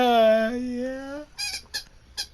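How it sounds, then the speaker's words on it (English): A squeaky toy gives a long, bright, wavering squeak, then three short sharp squeaks in quick succession, close and loud with nothing else around. "Let's just give him a little squeaky toy"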